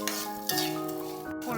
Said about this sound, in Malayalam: പുഴുക്കല്ലരി ഇളക്കി മലര് പോലെ ഇങ്ങനെ പൊട്ടി വരണം.